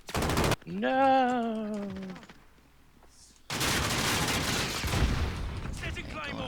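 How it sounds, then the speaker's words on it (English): Double-barrel shotgun fire in Call of Duty, heard as a sharp blast followed by a rising tone and then dense sustained gunfire, with a voice speaking briefly between. "Nice double shotgun."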